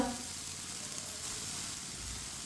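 Cloves, black pepper and whole cumin hiss in hot oil, a steady, fairly quiet sizzle with no break.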